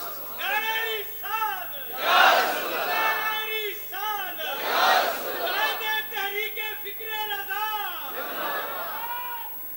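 A crowd at a religious seminar chants slogans in loud rhythmic bursts, many voices rising and falling together in repeated waves under a reverberant hall sound.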